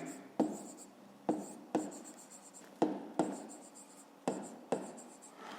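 Pen or marker strokes on paper while a math answer is written down, six or so quick scratchy bursts in an uneven rhythm, close and clear with no talk.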